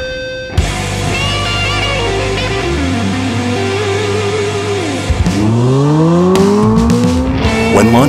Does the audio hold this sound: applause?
no